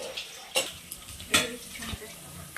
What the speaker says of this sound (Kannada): ಹಂಗಾಗಿ ಚೆನ್ನಾಗಿ ಫ್ರೈ ಆಗಲಿ